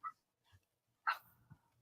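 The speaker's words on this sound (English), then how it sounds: "It's my neighbor's dog barking" A neighbor's dog barks from outside, heard indoors about fifteen feet from the front door: a couple of short, faint yips followed by one louder bark, with low muffled bumps trailing after.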